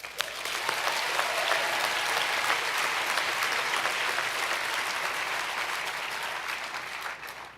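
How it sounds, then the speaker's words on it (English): Sustained applause from a commencement audience honouring the trustees, deans and college leadership, a dense even wash of many hands clapping that holds steady for several seconds and thins slightly near the end. "Let's give them applause."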